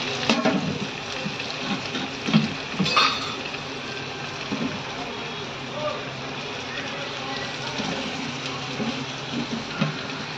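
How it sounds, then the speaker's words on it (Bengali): Chopped onions fry in a pan in a steady, dense broadband sizzle that runs the whole time, with a few louder crackles and spatters near the start. "কেটে রাখা পেঁয়াজগুলো একটু লালচে লালচে আমি ভেজে নেব।"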